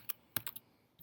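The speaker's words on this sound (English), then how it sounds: "You're going to type in that function" Typing on a computer keyboard to enter a function into Desmos: a few crisp, close key clicks in an irregular burst, with no voice.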